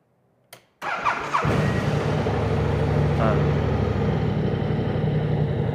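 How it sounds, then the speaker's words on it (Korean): A BMW C650GT maxi-scooter engine cranks briefly, catches and settles into a steady, close idle that carries on alone to the end. "자, 이제 시동 한번 걸어 보겠습니다."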